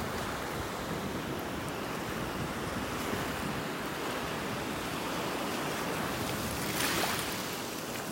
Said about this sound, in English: The waves are gonna be pulling them back into the Gulf here.